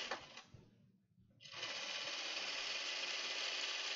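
A home sewing machine stitches waist darts on a Hawthorne dress, a short burst fading to a pause before a steady, loud continuous whir runs to the end.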